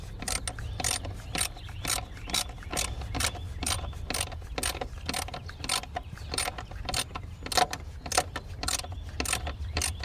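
A hand ratchet clicks in a quick, steady series of sharp close-up clicks while tightening a spark plug on a BMW 550i engine.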